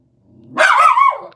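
A miniature schnauzer gives a single loud, drawn-out bark or yelp that starts sharply and holds for about half a second before breaking off, close and clear with no talking over it.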